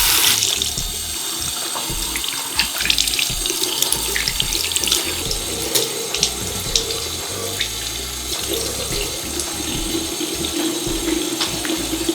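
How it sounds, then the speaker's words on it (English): Water runs steadily from a bathroom sink tap while a face is rinsed, a close, continuous splashing rush with small irregular splatters and drips that lasts the whole stretch without a break. "The next, I'm gonna rinse off my face."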